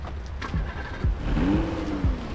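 A car driving off in the horror video game Zoochosis, its mid-pitched engine revving in several rising bursts with gear-shift dips, fairly close and loud.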